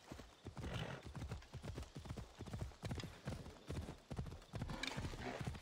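A horse's hooves clip-clop at a steady trot in the video game Assassin's Creed Odyssey, a quick rhythmic patter of hoofbeats with a brief whinny, fairly quiet and continuous.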